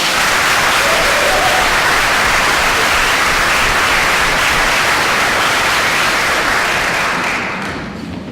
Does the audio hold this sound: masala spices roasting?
no